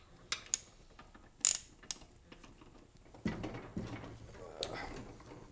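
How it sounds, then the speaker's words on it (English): A ratchet fitted with a spark plug socket loosens the spark plug on a Briggs & Stratton walk-behind lawn mower: a few sharp, separate clicks, then a longer rough grinding stretch, close by with no talking. "Attach your spark plug socket to your ratchet."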